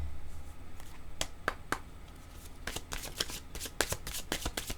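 Tarot cards are shuffled for a reading, a close series of quick riffling snaps that starts sparse and grows into rapid clustered flicks, with no voices.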